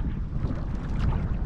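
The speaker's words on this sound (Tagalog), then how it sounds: "Medyo mahangin na." Wind buffets the microphone on an open fishing boat at sea during a summer handline fishing trip, a constant loud rushing roar with low rumbling gusts and no speech.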